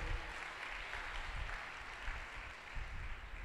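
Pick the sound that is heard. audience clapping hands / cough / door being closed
audience clapping hands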